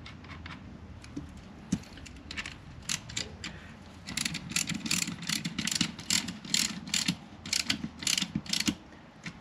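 A ratchet wrench screws an oil temperature sensor into a G23 VTEC engine, giving quiet, close bursts of rapid clicking that speed up and grow denser in the second half.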